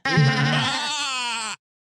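A goat bleat sound effect: one loud, close, wavering bleat that starts strongly, trails into a shakier quavering tail and ends abruptly after about a second and a half, with no other sounds.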